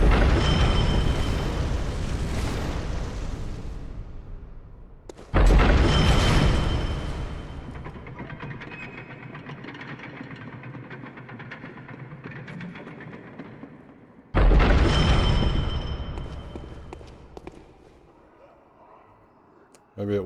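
A cannon fires in the video game Bloodborne, with repeated heavy roaring blasts that each fade into a long rumbling tail, loud and close, while a player talks over the gameplay.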